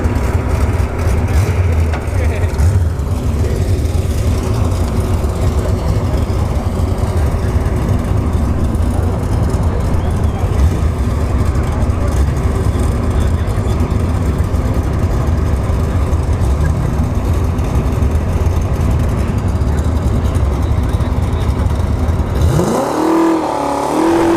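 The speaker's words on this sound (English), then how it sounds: "Alex in the right lane, the Nitrous box body, versus the all-motor RS6 Type S in the left lane." A drag race at a dragstrip between a nitrous-equipped boxy-bodied car and an all-motor RS6 Type S, heard as a loud, continuous roar of engines from close range, ending with a short burst of different noise.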